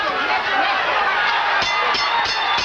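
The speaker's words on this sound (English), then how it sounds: "the crowd here at Caesars Palace comes to its feet in appreciation of a good, hard-working effort by both Duran and Minchillo" A boxing crowd at Caesars Palace rising to applaud at the end of a 1981 fight, steady, broad roar and applause filling the space, with a few sharper claps standing out near the end.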